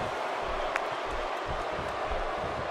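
Arena crowd noise from a WWE 2K16 wrestling match, King of the Ring 99, with a steady roar of spectators and faint thuds underneath, continuous and moderately loud.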